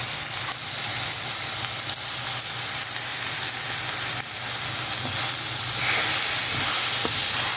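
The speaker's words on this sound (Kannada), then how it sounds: "ಈಗ ಇದಕ್ಕೆ ನಾನು ಅವಲಕ್ಕಿಯನ್ನು ಸೇರಿಸ್ಕೊಳ್ತಾ ಇದ್ದೇನೆ" Flattened rice (poha) tipped into a hot pan of tempering for cucumber poha upma, giving a steady, close, loud sizzle and hiss that runs unbroken throughout with no talking.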